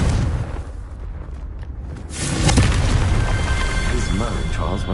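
A Confringo fire spell from Hogwarts Legacy bursts into a broad, rumbling fiery explosion that swells after a couple of seconds and roars steadily to the end, loud and close, over a dense game soundscape.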